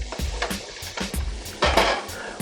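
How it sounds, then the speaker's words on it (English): Garlic cloves sizzle in a hot pan while being stirred fast for cream of mushroom soup, with crackling fry noise and repeated scraping strokes of a utensil against the pan, close and fairly loud. "And stir that around really fast, because again, garlic can get done really fast"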